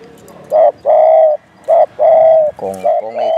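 A spotted dove coos close by in a series of soft, repeated hooting notes with short pauses between them.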